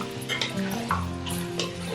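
Mutton sizzling with garlic in a pan for aloo gosht, with a soft frying crackle and a few light scraping stirs, no voices.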